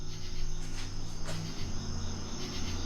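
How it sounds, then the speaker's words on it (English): Loud crickets chirping steadily in a continuous outdoor insect chorus, close and dense throughout, with a low rumbling hum underneath. "Sorry if the bugs are loud too. I think that was a bug."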